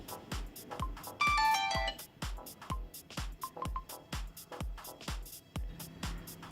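A Vernee Mix 2 phone speaker plays a ringtone: a rhythmic pattern of bright, chiming beeps and ping tones repeats steadily at moderate volume, with no talk.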